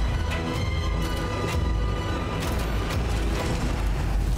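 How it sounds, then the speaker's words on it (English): Explosions from the space exploration game Starfield, a dense, continuous rumbling roar with several sharp bursts layered over steady loud low-end booms, no voices. "the explosions look incredible in this game."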